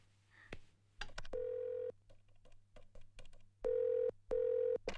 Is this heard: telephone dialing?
yes